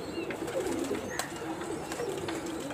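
High flyer pigeons coo at a large pigeon loft, soft repeated low coos running steadily through the clip with faint chirps and background noise.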